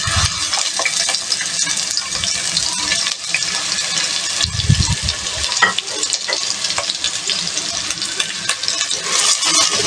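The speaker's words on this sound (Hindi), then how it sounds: "आज जैसे तेल गर्म हो आपने इसमें प्याज डाल देंगे।" Onions fry in hot cooking oil in a pot, giving a loud, continuous crackling sizzle with occasional stirring knocks.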